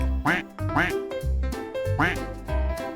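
A cartoon duck quacks repeatedly in a bouncy rhythm, bright nasal calls repeating about every half second and loud throughout.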